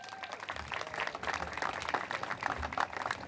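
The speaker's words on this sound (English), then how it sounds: "You guys can clap it up for Greta" Crowd applause at an outdoor Black Lives Matter rally, a short burst of steady clapping from many hands, moderately distant.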